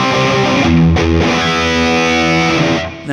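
Crunchy, distorted electric guitar chords from an amp's crunch channel through a Two Notes Torpedo C.A.B. speaker simulator ring out with a lush, spacious reverb tail, sustained and loud with no talking.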